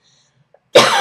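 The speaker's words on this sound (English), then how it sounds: "I'm talking too much. It's making me cough." A single short cough bursts out after near silence, close and fairly loud.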